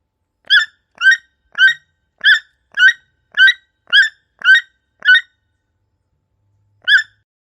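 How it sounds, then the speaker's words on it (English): A toucan gives a clear series of nine evenly spaced, loud croaking calls at about half-second intervals, then a pause and a single final call, with silence between. "toucan"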